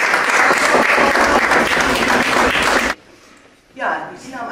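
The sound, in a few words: applause for the group of children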